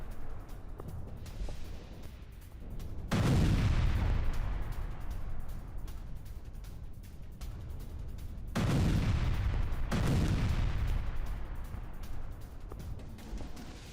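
Two heavy explosions of a Russian military vehicle boom about five seconds apart, each a loud blast that rolls off into a long rumbling decay, with faint crackling between.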